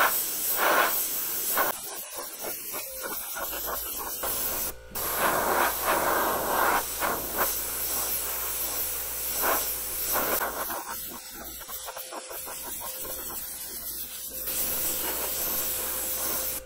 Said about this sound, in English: we're just going to spray the blue color